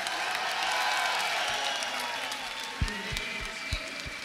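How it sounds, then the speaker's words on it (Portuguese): A studio audience claps for a completed dare, a steady wash of applause holding across the whole moment, moderately loud and fairly close, with a few heavier individual claps near the end and no clear speech. "palmas!"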